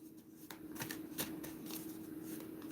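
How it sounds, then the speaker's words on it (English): Playing cards are shuffled by hand during a card reading, a close, steady riffling flutter that carries on through the whole stretch with a few sharper snaps and no voices. "Let me shuffle the cards."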